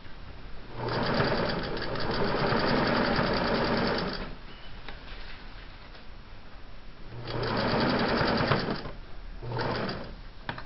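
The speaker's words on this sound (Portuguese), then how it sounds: "vou passar a costura aqui bem rente" A sewing machine stitching the original-style hem of denim jeans runs in two long, steady, loud bursts of rapid needle clatter, with a quieter pause between them and after them and no speech.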